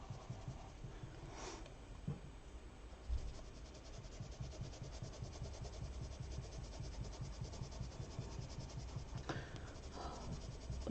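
Pencil shading lightly on paper, a soft, continuous scratchy rubbing close by, quiet with small irregular strokes and faint background creaks.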